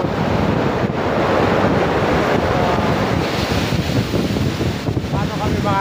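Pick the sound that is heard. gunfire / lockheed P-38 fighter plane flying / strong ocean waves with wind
strong ocean waves with wind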